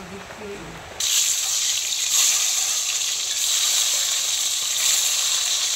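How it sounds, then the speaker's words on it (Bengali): Eggs fry in hot oil in a pan, a bright continuous sizzle that jumps in loudness after a quiet start and stays steady and close. "ডিম ভাজা হয়ে গেল, ডিমগুলো তোলা হচ্ছে।"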